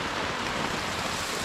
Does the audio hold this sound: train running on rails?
no